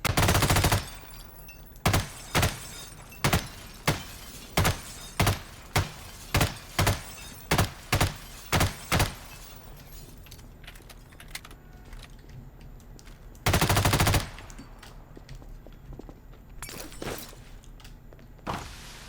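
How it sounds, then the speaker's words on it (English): Gunfire in the video game Garry's Mod on a haunted downtown roleplay map: a string of about a dozen sharp, evenly spaced single shots, then a pause, a short burst, and a few more scattered shots. "Get a little shooting in."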